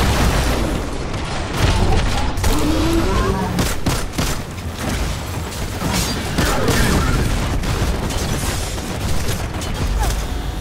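Rapid gunfire and booming explosions in the video game Destiny 2, a dense loud barrage of bursts and impacts running continuously, with a voice mixed in at moments.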